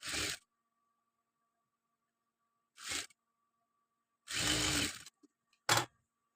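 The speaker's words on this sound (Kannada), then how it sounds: "ಟರ್ನ್ ಮಾಡಿ ಸ್ಟಿಚ್ ಮಾಡ್ಕೋಬೇಕು." Four short bursts of a sewing machine stitching chudidar fabric, the third the longest, separated by near silence with a faint steady hum; no one speaks.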